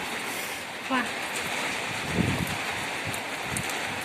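Strong wind and rain make a steady, close broadband roar with gusting swells throughout, and a brief voice-like sound is briefly audible underneath.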